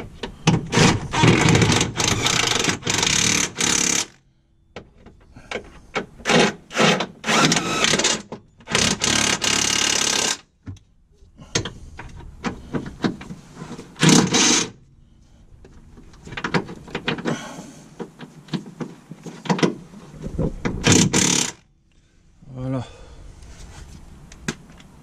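Bolts on a Citroën C2 lower suspension arm are tightened with a power tool in repeated short, loud buzzing bursts broken by pauses, with some clanking and handling noises between them.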